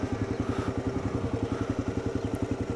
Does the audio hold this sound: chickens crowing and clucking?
no